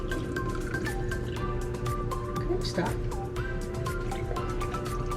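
Liquid being poured into popsicle molds at home, a steady trickling and dripping fill with small splashes throughout, close and fairly loud, while people talk over it.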